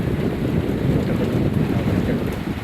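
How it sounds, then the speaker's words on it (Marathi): Strong wind roars through swaying trees on farmland during an unseasonal rainstorm, a loud, continuous broadband rush with no pauses. "पाऊस येतो खूप मोठ्या प्रमाणात वारा आहे हो, झाडं किती जोराबरोबर हालत आहेत"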